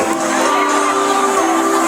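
Audience at a school art performance cheering for students' natural-dye eco-print batik, a loud sustained roar of crowd whoops and shouts mixed with clapping, filling the entire moment.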